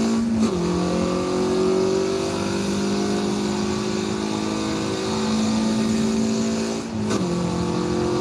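A Mazda Miata race car engine in the racing game Forza Motorsport 7 drones loudly and steadily at high revs, with brief dips in pitch at gear shifts near the start and end.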